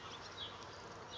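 Honey bee drones buzz near a hive, a steady close insect drone that hums continuously without pause, with no voices.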